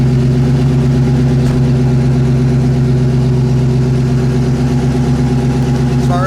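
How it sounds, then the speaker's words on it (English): A 1972 Mercury Cougar engine runs close and loud with a steady, deep, rumbling idle. It holds an even level throughout, with no distinct rev or talking. "Why don't you go ahead and rev it up in a couple of seconds here, D."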